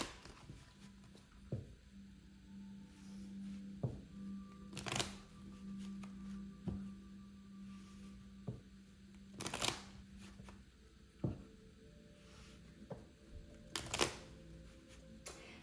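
A deck of Starseed oracle cards is shuffled by hand, with soft papery riffles and sharp slapping bursts at spaced intervals over a steady background hum, close and fairly quiet.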